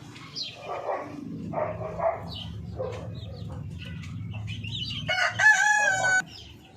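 Darag native chicken rooster crowing once, loud and nearby, in a strained harmonic call near the end, after soft clucks and scattered farmyard bird noises.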